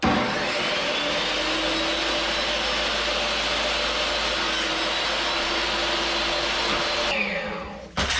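Power saw running steadily as it planes the edge of a wooden board in a dusty workshop during a wooden boat restoration, a loud continuous whine that cuts off abruptly near the end.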